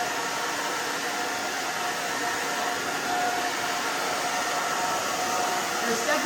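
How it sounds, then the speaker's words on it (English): A hair dryer on a low setting blows steadily while drying a pixie cut, a loud, even whooshing roar that holds without a break. "You can dry it on low if you like."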